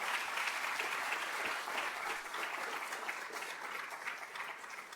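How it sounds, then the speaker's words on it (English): An audience at a plenary panel applauds with steady, dense clapping that holds evenly throughout, moderately close and without speech over it. "I'd like to give a round of applause to Michael Galopta and Gerald Torres"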